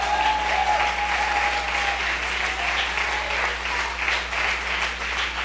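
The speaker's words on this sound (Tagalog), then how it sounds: "Yung mga tao dito, sige palakpak." Congregation in a church service applauding together, a dense, steady wash of clapping from many hands filling the room for several seconds, without pause.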